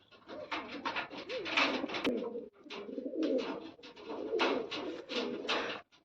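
Pigeons coo in a series of soft, throaty rolling calls close by, several phrases separated by brief pauses, with no talk over them.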